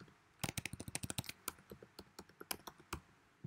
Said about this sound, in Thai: username ผมพิมพ์ username password ผมก็พิมพ์ password